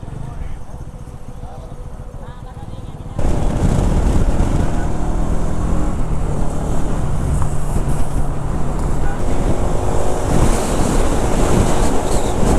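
Strong crosswind roars across a motorbike on the Yamuna Expressway under dark storm clouds, a steady loud buffeting rush that starts abruptly a few seconds in and stays constant, with heavy wind noise on the microphone.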